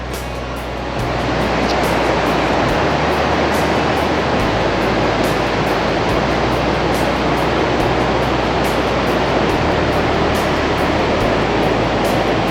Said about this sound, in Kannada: ದಟ್ಟ ಕಾಡು ಮಧ್ಯದಲ್ಲಿ ಹೌದು, ಬಿಳಿ ಹಾಲಿನಂತೆ ಬೀಳ್ತಾ ಇರುವಂತಹ ಜಲಪಾತ. ಇದು ಉಂಚಳ್ಳಿ ಜಲಪಾತದ ಸೊಬಗು.